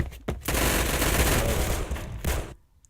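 An AK-47 fires a sustained full-auto burst in the video game Phantom Forces, loud and close, with a few separate shots at the start and a sharp stop into near silence.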